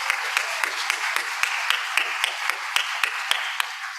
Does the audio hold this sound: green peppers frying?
no